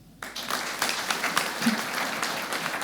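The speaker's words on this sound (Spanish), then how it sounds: "ya es momento de despedir entonces a las autoridades con este fuerte aplauso" An audience applauds loudly to send off the officials at the opening panel of authorities. The clapping breaks out suddenly after a brief quiet and holds as a dense, sustained roar.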